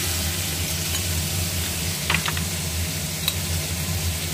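Shrimp seasoned with turmeric and salt sizzles steadily in a hot pan, a constant frying hiss with a few faint clicks of stirring.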